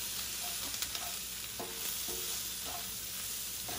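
Garlic, salt, pepper and crushed peppers frying in a pan for Filipino spaghetti, giving a constant close sizzle with a few light stirring knocks.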